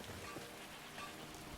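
Steady rain falls in the fantasy video game Skyrim, a constant soft hiss of drops with no distinct bursts and no speech.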